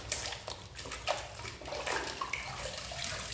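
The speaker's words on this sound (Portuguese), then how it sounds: "É bom lixar com água?" A car bumper is wet-sanded by hand with P400 sandpaper and water, giving a steady wet scrubbing hiss with soft sloshing strokes, close up and with no talking.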